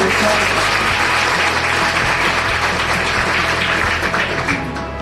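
Dense, steady clapping from a seated audience at a Hindi spiritual discourse fills the whole stretch, loud and continuous with a slight fade at the end.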